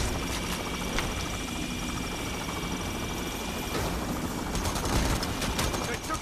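Sniper fire in the video game PayDay: The Heist during a First World Bank robbery, with repeated sharp shots over constant battle noise and a humming drone.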